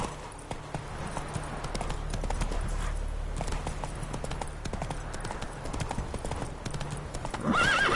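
Roach, Geralt's horse in The Witcher 3, galloping with fast, even hoofbeats close by, ending in a sharp neigh right at the finish.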